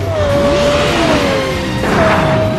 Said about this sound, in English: the most amazing thing is the way it revs